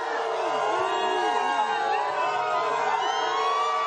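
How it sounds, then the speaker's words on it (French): Angry crowd in Mayotte jeering and shouting at the interior minister amid police presence, a loud continuous roar of many voices with whistles or sirens wailing through it. "Retenu par les forces de l'ordre, une foule très remontée, venue huer"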